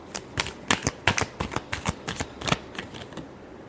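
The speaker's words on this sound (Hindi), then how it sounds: "last shuffle" A deck of tarot cards being shuffled by hand, a quick run of crisp riffling snaps and slaps close by, with no talking.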